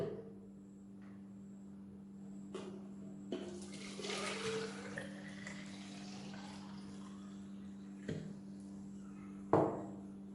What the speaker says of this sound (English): Now I will use a pot to fill this bottle.